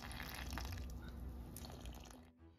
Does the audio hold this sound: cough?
no